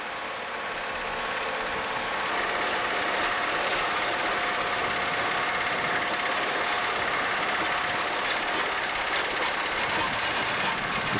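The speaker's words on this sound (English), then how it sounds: "To get the rear trailer exactly in line with the bridge, it was maneuvered backwards and forwards several times." Heavy transport truck with a long rear trailer maneuvering backwards and forwards to line up with a bridge in the UK, giving a steady, loud broadband engine rumble and rolling noise throughout with no talk.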